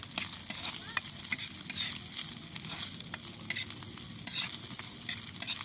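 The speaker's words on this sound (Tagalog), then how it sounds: "Ngayon po sasangkot siya po ng konti yung tinapa." Smoked fish (tinapa) sautéed in a pan gives a steady close sizzle, with stirring scrapes and small crackles throughout, and no talking.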